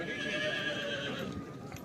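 At the Pushkar fair, a horse lets out a drawn-out, wavering whinny that is clear and fairly close, set against a steady background din of the crowd.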